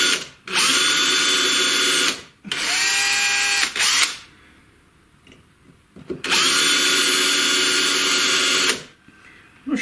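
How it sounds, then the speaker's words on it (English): A power drill with an 8mm bit boring holes for a CNC router build, three loud whining runs of a couple of seconds each with quiet pauses between, close and alone. "I'm going to put an 8mm drill through"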